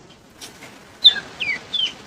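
A few short clucking calls from large-breed roosters on a farm in Erode, quiet between them, with three louder bursts toward the end.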